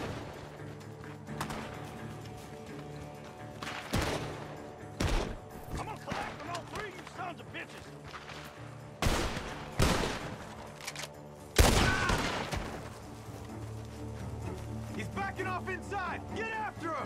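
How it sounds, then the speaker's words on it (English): Gunfire echoes from a barn in the Red Dead Redemption 2 video game, several loud cracking shots and bursts spread irregularly over a continuous busy game soundtrack, with people talking throughout. "The gunshots are coming from that barn."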